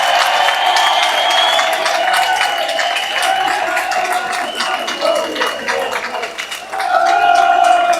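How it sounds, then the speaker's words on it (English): A crowd at a street march in London applauds and cheers, dense clapping mixed with whistles and shouting voices, loud and sustained, swelling again near the end. "let's have a round of applause for Tommy Robinson"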